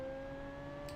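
Rear-engine sports car in BeamNG, its engine giving a steady, vacuum-cleaner-like whirring drone with a sustained tonal hum, close and continuous throughout, with no talk.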